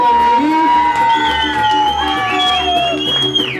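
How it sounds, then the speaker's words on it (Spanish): A quinceañera crowd cheers and whoops over a mariachi band's lingering tones, with shouts rising above the steady musical backing. "Y el aplauso para la Natalí."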